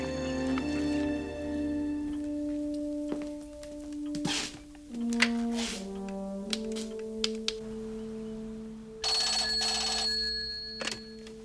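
An old landline telephone bell rings indoors in a 1980s TV movie, several bursts of ringing spread across the stretch amid quiet room sounds and soft thuds, with no one talking.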